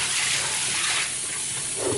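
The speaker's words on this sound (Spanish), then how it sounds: "Ahora aquí lo vamos a lavar con agua caliente." Hot water runs and swishes over rice being washed for red rice, a loud, close, continuous hiss of pouring water with no speech.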